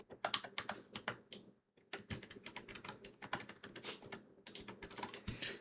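A command being typed on a computer keyboard as a steady run of quick, close key clicks, broken by one short pause, with no talk.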